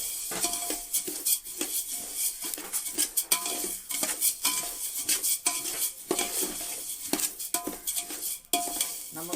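A metal spatula stirs and scrapes coriander seeds as they dry-roast in a pan for homemade sambar powder, giving a steady run of clinks and rattling scrapes with no voices.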